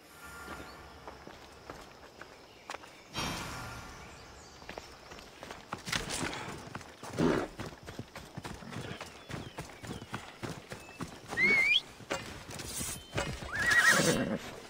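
A horse clip-clops along at a walk, the hoofbeats steady and close, with a couple of high neighs breaking through over rustling and background noise.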